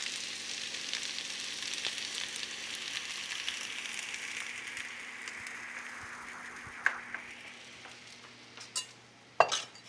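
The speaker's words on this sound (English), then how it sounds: "I'm going to now turn down the temperature a little bit, and I'm going to pour in my eggs" Beaten eggs for a frittata hitting a hot pan, a broad sizzling hiss that slowly fades and thins, ending with a few sharp clinks of a utensil against the pan.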